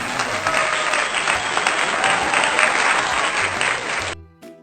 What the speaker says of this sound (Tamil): பாட்டு பாடி முடித்ததும் வழக்கம்போல் கைத்தட்டல் ஒலியால் காடே அதிர்ந்தது.